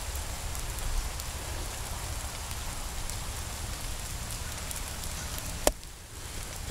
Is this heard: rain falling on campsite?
yes